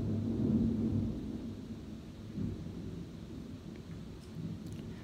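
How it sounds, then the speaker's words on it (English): A low rumble of thunder rolls under steady pouring rain, the distant boom swelling early and fading while the downpour hisses on without pause. "That was lightning and thunder."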